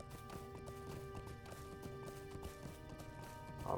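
Horse hooves clip-clop at a steady running pace in LOTRO, the Lord of the Rings Online game, with a continuous rhythmic thudding over a low background of game ambience.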